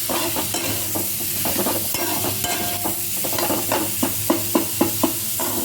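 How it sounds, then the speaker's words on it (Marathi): Potatoes and salt are stirred in a sizzling frying pan for Batata Bhaji, with repeated scraping stirs over a continuous frying hiss, the strokes growing sharper toward the end, no talking. "आता याच्यामध्ये आपण बटाटा टाकणार आहोत थोडंसं मीठ टाकणार आहोत आणि हे व्यवस्थित घेणार आहोत"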